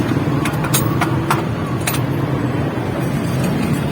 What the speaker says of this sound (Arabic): هذه سيارة هايلوكس